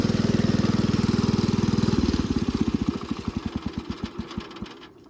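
A Wheel Horse riding lawn mower engine runs loud and close with a fast, even putter, then slows down into widening separate thumps as it winds down toward stopping.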